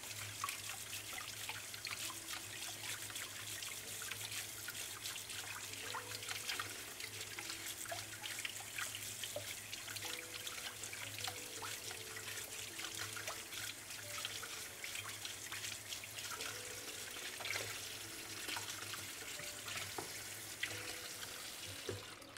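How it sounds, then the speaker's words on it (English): Hot water runs steadily from a kitchen tap, a continuous moderate rush with faint trickling, alone with no talk. "I'm just trying to go ahead and get some nice hot water coming out of my tap"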